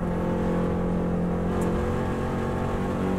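A Subaru WRX STI runs flat out in fifth gear on the Isle of Man road course, its engine droning loud and steady from inside the car with constant road and wind roar, no voice over it.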